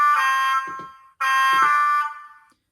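Two bursts of the horn from a Hornby HST model train's TTS sound decoder through its standard factory speaker, each about a second long, thin and shrill with no bass, separated by a short gap.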